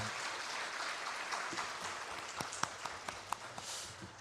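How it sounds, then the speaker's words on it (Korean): A Sunday worship congregation claps to welcome new members, a soft, fairly distant patter of applause that thins into a few scattered, sharper claps near the end. "우리 힘찬 박수로 환영해 주시기 바랍니다"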